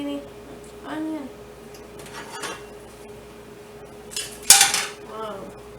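A zucchini, mushroom and onion panini is turned in a pan with a few clinks and scrapes of a utensil against metal, including one sharp clatter. A person talks softly around these sounds.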